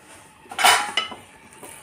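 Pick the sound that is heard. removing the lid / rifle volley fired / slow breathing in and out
removing the lid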